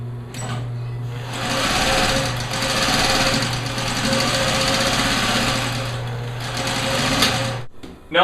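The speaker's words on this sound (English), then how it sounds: "Now I'm going to sew the loops to the other piece of webbing." A sewing machine stitches MOLLE webbing loops, humming loudly and steadily at an even pace before stopping abruptly near the end.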